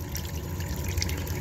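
Water spills over a small waterfall in a gold sluice on the Snake River in Idaho, a steady, soft rushing wash with faint trickles on top and no voices.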